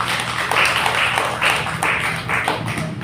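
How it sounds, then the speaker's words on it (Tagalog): Church congregation clapping along during a Filipino sermon service, a dense steady wash of many hands with rhythmic pulses, fairly loud and close. "Ituloy niyo yung palakpak niyo."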